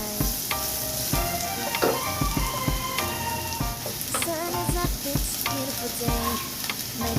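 Eggplant, hotdog and garlic sizzle steadily in hot oil for fried rice, a loud, continuous crackle and spatter with stirring clatter and music playing underneath.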